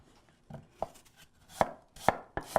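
A knife chops a peeled apple on a cutting board, giving about six sharp, close knocks at an uneven, unhurried rhythm that grows firmer toward the end.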